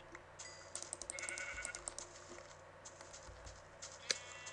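Minecraft sheep bleating in a series of short, fairly quiet calls over soft game ambience, with a few patter and squish effects mixed in.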